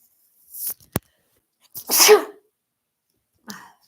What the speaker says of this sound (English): So, I had to sneeze.